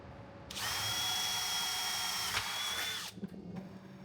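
A power drill whines steadily for about two and a half seconds as it drills out rivets holding a weather seal on a Series 3 Land Rover under restoration, close and loud, then stops with a few clunks.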